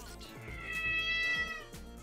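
A deaf cat gives one drawn-out, wavering meow, fairly faint and close, with no talk over it.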